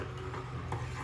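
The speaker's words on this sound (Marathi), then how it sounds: "आता हे मस्त ढवळून घेऊ" A spoon stirs sambar in a pot: a short, soft scrape and swirl of liquid at close range, about a second long.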